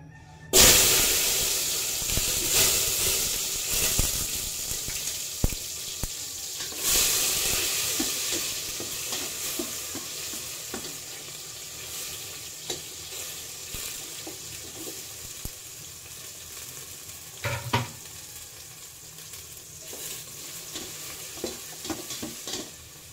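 Garlic, onion and tomato sautéing in a pan for a simple Filipino dish with corned beef and sotanghon, with a steady sizzle and frying crackle, repeated stirring scrapes and brief water-tap splashes, close and continuous with no talk.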